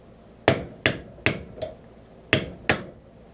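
Six sharp metallic hammer strikes on a Ski-Doo Alpine snowmobile clutch ring out at uneven intervals, each with a brief clanging decay, close by and with no talking.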